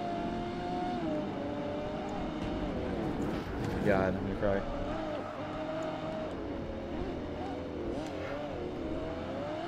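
Porsche Carrera GT engine in Project Gotham Racing 2, racing through Edinburgh: a steady engine drone with shifting pitch and a brief surge of revving, running continuously beneath a player's talk.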